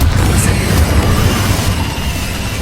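A Confringo blasting spell explodes in Hogwarts Legacy, a loud, close, booming burst with a heavy low rumble that stays dense across the short moment, with no voices over it.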